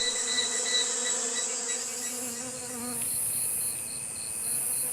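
Blue-banded bees hum with a steady close, high-pitched buzz that rises and falls slightly in loudness, with no voices.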